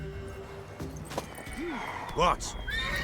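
A horse whinnies in The Witcher 3 video game, a short rising and falling neigh over hoof clip-clop and game ambience, with a voice speaking briefly.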